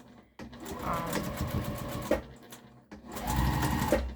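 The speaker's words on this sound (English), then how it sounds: "you just go and you sew a 1/4 inch seam, or whatever seam you're using" A sewing machine stitches a quarter-inch seam on a harvesting apron, whirring in two steady bursts with a short pause between, close and clear, with a voice faintly under it.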